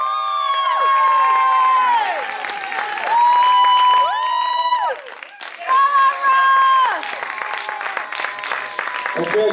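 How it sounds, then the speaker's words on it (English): Audience applause and cheering for a middleweight champion at a natural bodybuilding contest, with loud whoops and sustained shouts over steady clapping, dipping briefly mid-way before surging again. "Big round of applause for the middleweight champion"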